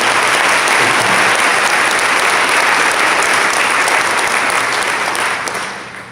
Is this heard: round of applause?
yes